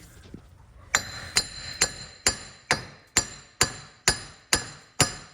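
Ten sharp metallic hammer blows strike a Subaru Impreza wheel bearing at a steady, even pace, each ringing briefly with a bright clank, loud and close.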